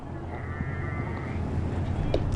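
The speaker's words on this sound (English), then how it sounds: "The sheep are getting busy again, aren't they, Carl?" Sheep near a baseball field bleat in a drawn-out wavering call beneath steady outdoor crowd and field noise, fairly distant and moderately loud.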